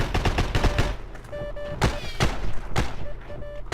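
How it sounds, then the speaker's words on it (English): Gunfire in the World War II shooter Heroes and Generals: scattered sharp shots and short bursts crack repeatedly at mid distance, with occasional whizzing rounds passing by amid battlefield noise. "Shots are going by, but I don't think they're aimed at me."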